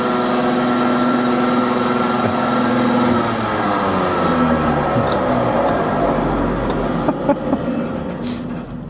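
A loud old brewery malt oven machine runs with a steady, heavy rumbling drone and a resonant hum that rattles like an aging submarine, with a few sharp clanks near the end.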